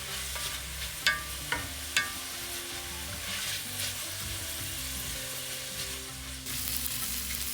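Thinly sliced onions with salt and turmeric sauté in a pan for a Kerala lamb curry, giving a steady close sizzle. A few sharp clacks from stirring come early on.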